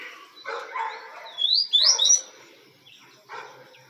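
A caged papa-capim seedeater sings close by in short bursts of buzzy chirps and a couple of bright rising whistles, separated by brief pauses.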